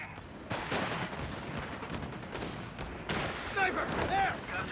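Sniper shots and machine-gun bursts ring out in a Company of Heroes 3 battle, with sharp cracks and rattling volleys over dense combat noise that swells toward the end.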